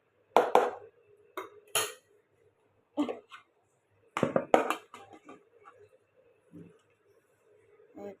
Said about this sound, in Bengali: তো এই যে প্রথমে আমি কাটা পেঁয়াজ দিয়ে দিচ্ছি।